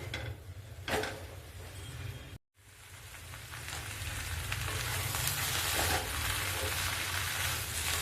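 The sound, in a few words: onions frying and being stirred in a pan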